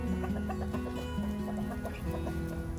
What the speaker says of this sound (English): time to let the chickens out